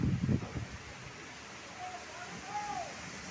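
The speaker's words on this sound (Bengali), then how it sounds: "দেখুন কি হারে ঝড় ঝড়ো হওয়া বলছে বুঝতে পারছেন" A storm's strong wind sweeps past in a steady broadband roar, close and continuous, with a brief low rumble at the start.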